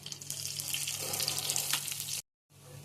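Gulivinda fish frying in hot oil in a pan, a dense steady sizzle and crackle close up, cutting off abruptly to silence before the sizzle resumes softer.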